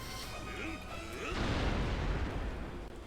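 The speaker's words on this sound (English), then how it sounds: "there is this rock here that I want to blow up with a bomb" A bomb blasts apart a rock in Hyrule Warriors, a dull booming burst with rumbling debris that swells midway and lingers under game music.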